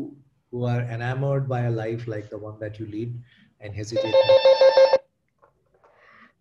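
A mobile phone rings indoors with a rapid, bright, pulsing ringtone lasting about a second, right after a person finishes speaking.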